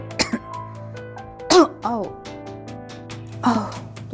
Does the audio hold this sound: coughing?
yes